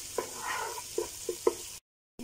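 Green chillies fry in a pan for chicken tikka biryani, a soft, close sizzle with a few light clicks and stirs before a brief cut to silence.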